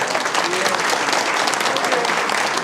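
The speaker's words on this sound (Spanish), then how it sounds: "Un fuerte aplauso para el doctor Marino Pérez Abreu." Sustained, dense applause from an audience after a medical talk by a gynecologist and obstetrician on the female microbiota, steady and loud throughout.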